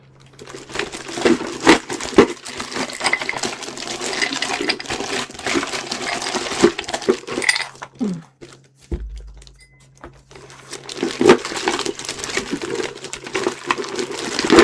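Ice cubes clatter and rattle against a glass in a burst of irregular clinks and scrapes, close and fairly loud, pausing briefly before more clinking resumes.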